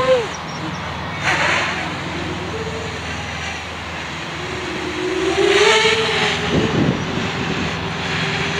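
An FPV quadcopter's motors whine and buzz while it pitches back and forth in flight, the pitch of the motor tone rising and falling in sweeps over a steady background rush.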